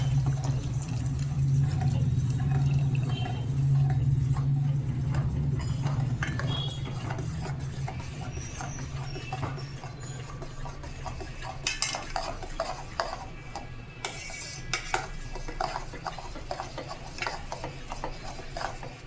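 Cornflour milk being stirred into boiling milk in a pot for a chilled cake, with a continuous low bubbling rumble under steady scraping and clinking of a ladle against the pot, close and moderately loud throughout.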